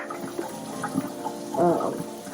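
Water rinsing through the impeller of an aquarium filter being cleaned, a steady close splashing flow that swells briefly near the end, with no talk.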